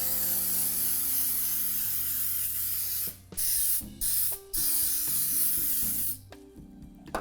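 Cooking spray hisses steadily into a cake pan to grease it, one long close spray broken by two short pauses, then a final gap before more spraying, with a faint hum underneath.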